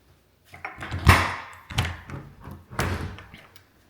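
A door in a single-family home opens onto a balcony, giving a few close thumps and rattling knocks as it is handled, spread over several seconds.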